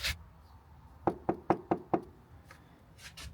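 Five quick knuckle knocks on wood rap out in an even rhythm, close and crisp, with a faint tap or two afterward and no talking.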